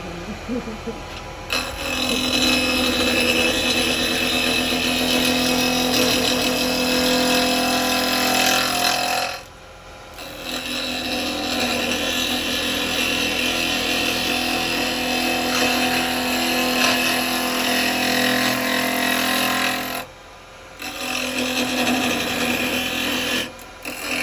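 A wood lathe spins a live-edge laburnum bowl at 2,500 RPM, a steady loud rasping hum of the tool cutting hard wood, broken by two brief pauses where the cut stops.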